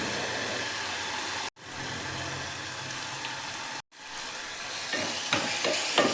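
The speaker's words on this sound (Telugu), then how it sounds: "One tea spoon salt, 1 tea spoon పసుపు వేసి బాగా వేయించాలి." Salt and turmeric fry in a pan for pudina rice with a soft, even sizzle. It cuts out twice for an instant, and a few louder scraping stir sounds come near the end.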